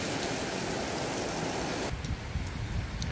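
Steady rain pours down on a wet rainy day beside a backyard canal, a dense, even hiss with no one speaking, shifting partway through to a slightly softer patter.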